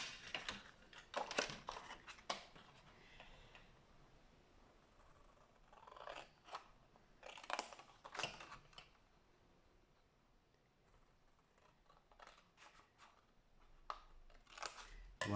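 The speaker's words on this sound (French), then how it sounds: "Donc on va couper nos lignes." Scissors snip through paper along drawn lines while a diamond-shaped box is made, in faint, close bursts of crisp cuts separated by quiet pauses.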